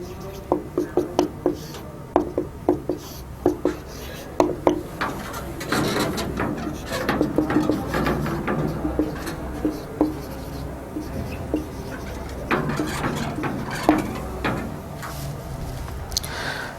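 Answers being written on a board during an 11th-class Urdu lesson: a close run of quick, scratchy strokes and sharp taps, bunched in bursts, over low background noise with faint voices.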